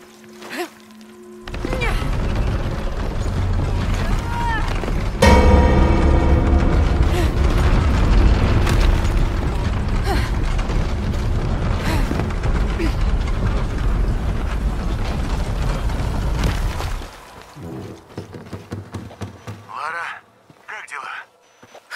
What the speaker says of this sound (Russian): Лара, Тринити используют взрывчатку.